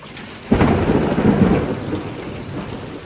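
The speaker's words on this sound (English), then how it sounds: "These thunder cracks are out of control right now" A sharp thunder crack bursts loudly in a severe thunderstorm with gusty winds and heavy rain, then rolls and rumbles for a couple of seconds before easing back into the steady hiss of the downpour.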